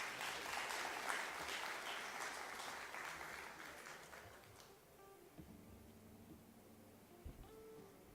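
Audience applause at a communications conference, faint and distant, lasting about five seconds before fading to room murmur with a few scattered claps.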